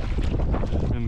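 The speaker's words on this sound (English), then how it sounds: "it's pretty windy, so sorry about any background noise." Wind buffets the microphone aboard a creek boat while decoy long lines are picked up, a loud, continuous low rumbling roar with no pause over the brief moment.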